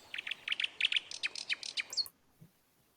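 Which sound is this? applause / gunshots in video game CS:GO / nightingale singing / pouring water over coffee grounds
nightingale singing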